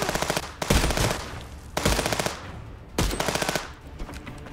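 Rapid rifle and automatic gunfire in the smuggling-checkpoint game Contraband Police, three loud close bursts of fast repeated shots, each cutting off abruptly, with brief gaps between them.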